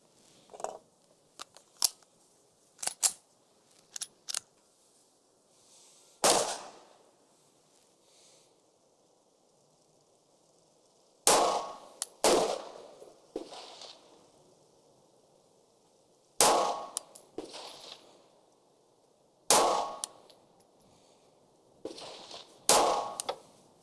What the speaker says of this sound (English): first rounds through the Canik Mete MC9L